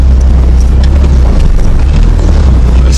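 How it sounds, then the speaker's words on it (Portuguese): Heavy low rumble of a car engine reversing at close range, very loud and steady with wind-like buffeting over it and no voices. "Agora o jovem vai dar ré no carro."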